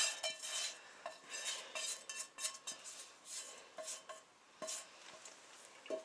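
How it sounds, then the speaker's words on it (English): A utensil stirs and tosses air-popped popcorn in a bowl, giving light clinking scrapes and rustles in uneven bursts, quiet and close, without any talking. "Another quick stir. Toss it quick."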